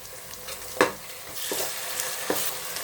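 Ginger garlic paste frying with onions in a pan: a close sizzling hiss broken by three stirring scrapes, steady and moderately loud, with no talk.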